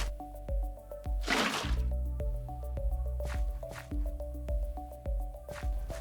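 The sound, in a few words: Minecraft water bucket waterlogging a leaf block, video game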